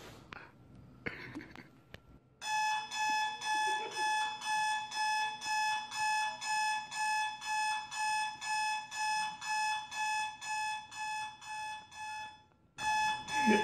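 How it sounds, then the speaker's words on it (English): An alarm clock rings in a steady repeating pattern of loud, bright electronic beeps lasting over ten seconds, after a few quiet bumps and faint sounds, then briefly stops and starts again. "10 hours alarm clock"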